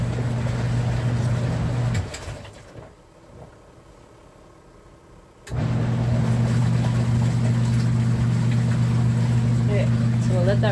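A portable washing machine drones loudly in a steady low hum, stops for a few seconds into a quieter lull, then starts again with the same constant motor hum.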